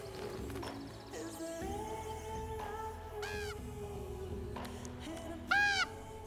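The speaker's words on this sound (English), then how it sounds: "Hi, bird." In a graveyard scene, a bird gives a few drawn-out, wavering calls at middle distance, rising over a steady low background hum, with one louder call near the end.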